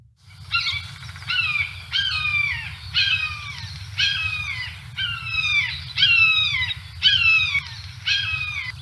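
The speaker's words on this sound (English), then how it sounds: "So let's take a listen to the red-shouldered hawk." A red-shouldered hawk calls in a steady series of about nine loud, descending screaming notes, roughly one per second, close and clear over a low constant background hum.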